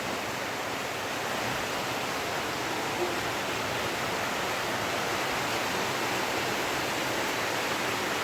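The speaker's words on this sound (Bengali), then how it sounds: "কি জোর বৃষ্টি চলে এলো" A downpour of heavy rain keeps up an unbroken, uniform roar of noise from start to finish, steady and close, with no voices over it.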